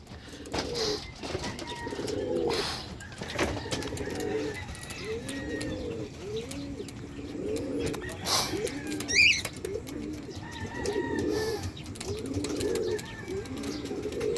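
Pigeons coo repeatedly at a home loft, low throaty rolling calls in overlapping bursts close by, with occasional chirps and a brief wing flutter.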